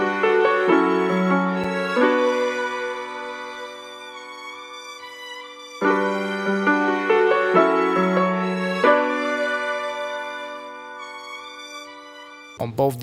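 Layered vintage string samples, with a viola added, played on a keyboard: sustained, sweet chords shifting in slow phrases, with clear breaks between the held passages and a brief percussive knock at the very end.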